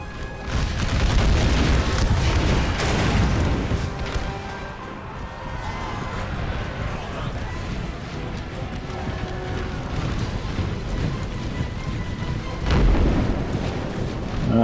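Union artillery pounding in an American Civil War battle game, heavy booming blasts and rumbling crashes rolling through, loudest at the start and again near the end, with a dense low roar of battle in between.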